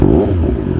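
Triumph Speed Triple 1200 RS motorcycle engine cranking and firing up close, a loud low rumble with a brief rising clatter as it catches.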